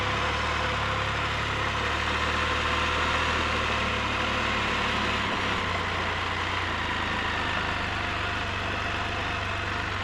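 A Can-Am Spyder F3 three-wheel motorcycle engine runs steadily with a loud, constant low rumble, then dips briefly midway as the bike is put in gear and pulls away.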